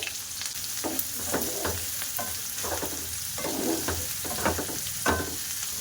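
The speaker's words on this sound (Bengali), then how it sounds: "পেঁয়াজটা আমি হালকা একটু ভাজা করে নেব" Onions frying lightly in a pan with garlic cloves and slit green chillies for a bitter gourd fry, giving a steady sizzle with periodic scraping stirs, close and alone without talk.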